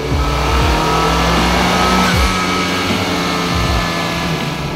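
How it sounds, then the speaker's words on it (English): A 2018 Honda Civic Type R (FK8) revs its engine hard at high rpm on the move, a loud, steady, continuous roar with rising and falling pitch sweeps and a brief tire squeal, without any talking. "I just love that we can hear the engine, and the engine actually sounds healthy at a high revs."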